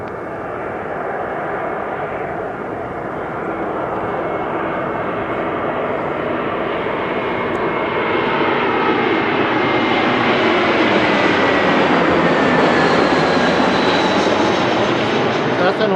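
An American Airlines jet taxis at Philadelphia airport, its engines producing a loud, steady roar and whine that swells gradually as it draws nearer, with voices talking underneath.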